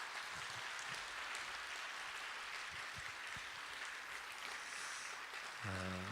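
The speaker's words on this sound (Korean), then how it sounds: "우리 박수로 고맙습니다" A church congregation at a Wednesday service claps in thanks, a faint, steady wash of applause heard from a distance, ending with a short sustained musical tone.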